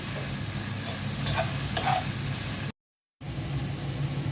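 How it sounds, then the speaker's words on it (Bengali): Bitter gourd stir-fried in a cooked spice paste with cumin, a dense close sizzle with a couple of sharp scraping clicks of the spatula, briefly cutting out before the frying resumes. "এখন করলাটা দিয়ে দিচ্ছি করলাটা একটু কষিয়ে নেই"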